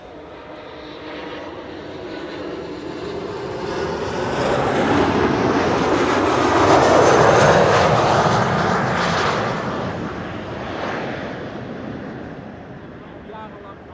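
An Embraer 190 jet arriving at Schiphol on a sunny day. Its engine roar swells, peaks as it passes, then fades away, loud and broadband, while a voice talks faintly underneath.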